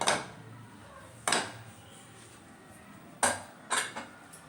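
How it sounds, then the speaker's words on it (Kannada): Metal pressure cooker lid being opened after cooking raw banana rice, several sharp metallic clanks and knocks spaced apart over a quiet background, close by. "ಈಗ ಕುಕ್ಕರ್ ಮುಚ್ಚಳನ ತೆಗೆಯೋಣ."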